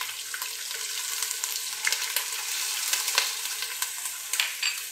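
Curry leaves, whole red chillies, onion paste and ginger paste frying in oil for kadhi pakora, a bright crackling sizzle with sharp spattering pops, close and continuous, no speech.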